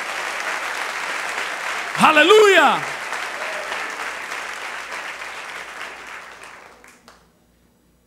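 A church congregation gives God a loud, sustained round of applause that swells around a shouted exclamation and then fades out.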